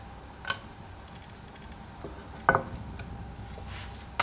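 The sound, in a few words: scallion pancake frying in hot flat pan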